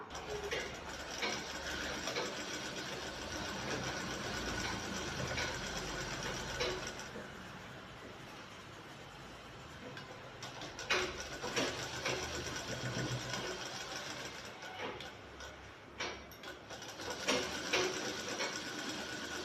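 A sewing machine stitches along the outer edge of a shirt sleeve with rapid, rhythmic mechanical clatter in several bursts separated by brief pauses, close and steady.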